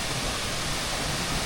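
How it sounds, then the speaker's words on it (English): Water rushing at an abandoned waterfall in Thailand, swollen and muddy after morning rain, makes a loud, dense, unbroken roar close by. "So you probably ain't going to be able to hear me when we get down to the waterfall."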